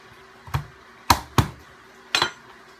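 Garlic cloves pressed and crushed under a flat knife blade with the heel of a hand on a kitchen cutting board: four sharp, close thumps spaced out over a few seconds, in quiet.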